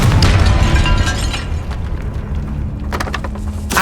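Confringo blasting spell in the Hogwarts Legacy video game, a loud booming explosion followed by a sustained rumbling roar and crackling debris bursts near the end.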